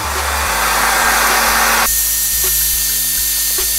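A hair dryer blows hot air onto a sticker on an Academy MCX semi-electric airsoft gun to loosen its adhesive. Its steady, loud whir runs without a break and shifts to a lower, rougher tone partway through.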